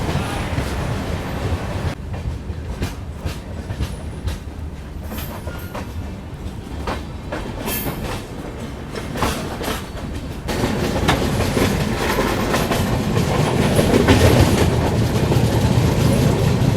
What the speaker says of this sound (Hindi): ये आई है दोपहर में 2:42 पे सिवान जंक्शन रेलवे स्टेशन पे